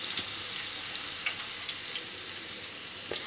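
Boondi drops of gram-flour batter fry in hot oil with a steady, dense sizzle and faint scattered pops, close and continuous without speech.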